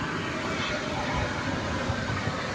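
Engines of a UPS MD-11 at DFW airport at night rumble as a steady, broad roar at constant loudness, with no speech.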